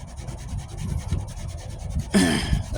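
Close, steady rhythmic sanding strokes rasp across body filler on a 1998 Ford Ranger wheel arch repair, ending with a brief louder scrape.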